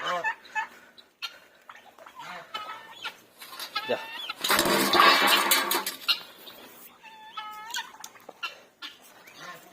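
Ducks squawk and chatter in a burst of agitated calls, with quieter scattered quacking and rustling before and after, close by.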